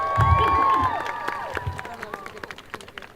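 Rally crowd at a Utah transgender rally cheering and clapping, dense applause and whoops loud at first then thinning into scattered claps, with voices mixed in.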